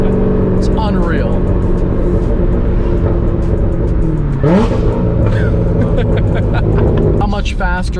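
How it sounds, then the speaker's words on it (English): Very loud engine rumble from inside a Lamborghini (not a Huracan), a steady deep drone with rising revs and whine, while people talk over it. "when you ride in it, it's like ear-shatteringly loud,"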